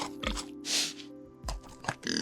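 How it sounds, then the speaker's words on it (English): A pig in the DayZ video game gives a few short grunting oinks in separate bursts, close and moderately loud over a low steady background hum. "Pigs will sound like this,"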